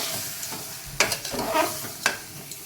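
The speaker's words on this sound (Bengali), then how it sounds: "নেড়ে চেড়ে ডালটা দিয়ে দিলাম" Chana dal is stirred in a frying pan with a spatula, giving a soft sizzle with a few sharp scraping stirs close by, and no talking.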